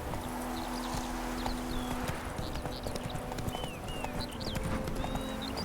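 Roach, a horse in The Witcher video game, gallops with a fast, steady clip-clop of hooves, continuous and fairly close under a constant ambient bed, with bird chirps scattered through.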